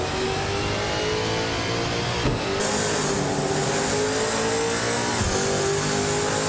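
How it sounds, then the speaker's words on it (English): Video game V8 supercars race along a high-speed track, with a continuous loud engine drone and rising, shifting revs as the cars accelerate, with no pauses, a steady racing roar throughout. "The track's high-speed straights are favoring the V8 supercars with quick lap times."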